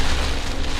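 Rain falls outside a Jeep on a muddy trail near Eagle Peak in Julian, California, as a steady, dense close hiss of drops with no voices.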